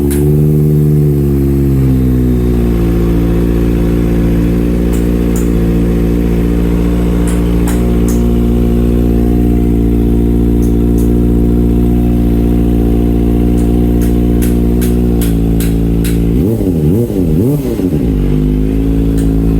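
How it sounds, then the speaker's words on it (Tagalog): Kawasaki Ninja ZX25R fitted with an Austin Racing muffler with the silencer removed, idling loud and steady up close before a quick burst of sharp throttle revs near the end. "ang mag-sound check sa Austin Racing muffler without silencer"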